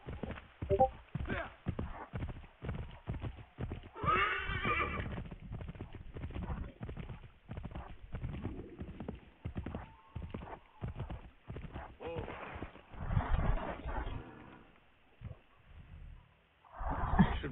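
Hooves clip-clop rhythmically as a horse gallops in the video game Assassin's Creed III. The hoofbeats are steady and moderately loud, with a voice talking over much of the ride.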